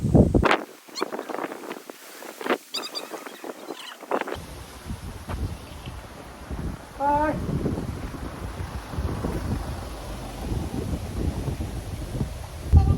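Steady wind rushes and buffets across the microphone, with water sloshing nearby and occasional muffled voices underneath.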